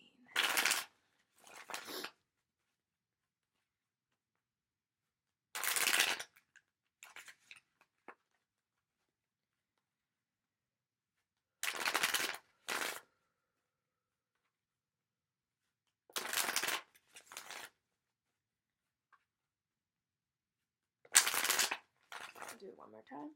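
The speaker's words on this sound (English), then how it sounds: "I'm going to shuffle and see what is coming up for Aries" Tarot cards being shuffled in five separate bursts, each a quick riffling flutter followed by a few soft taps, spaced by long quiet gaps.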